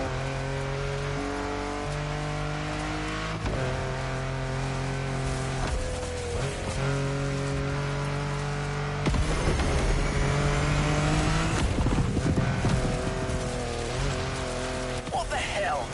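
Car engine revving and tires squealing during a race in The Crew Motor Fest, a loud continuous engine drone with shifting pitch and a rougher, harsher stretch partway through, with talk over it.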